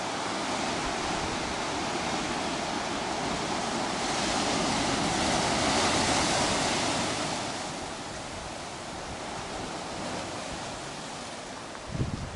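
Ocean waves wash onto a beach in a broad, steady roar of surf that swells louder in the middle and then eases, with wind noise mixed in.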